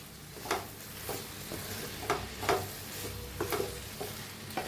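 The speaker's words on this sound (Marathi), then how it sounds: "तर हलवून घेऊया भाजीला।" A sizzling beans vegetable dish being stirred in a pan, where a low steady sizzle is punctuated by distinct scraping strokes of a spoon at irregular intervals, close but fairly quiet, no speech.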